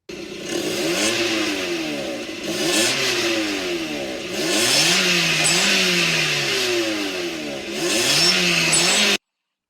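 A Mazda Miata NA fitted with an aftermarket exhaust revs hard several times, each rise and fall in pitch distinct, loud and close, with a slight whistle and no talk over it.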